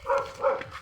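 A dog barks twice in quick succession, then gives a softer third yelp, fairly close and clear with no talking, during a village fiesta.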